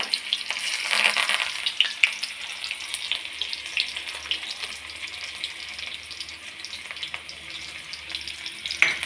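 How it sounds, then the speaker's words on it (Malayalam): Small red shallots sizzle steadily in hot oil for a South Indian tempering, a dense continuous crackle with occasional brighter pops and some stirring, close and fairly loud with no talking. "എണ്ണ ചൂടായി കഴിയുമ്പോൾ ചുമന്ന ഉള്ളി ആദ്യമേ ഇട്ട് കൊടുക്കണേ"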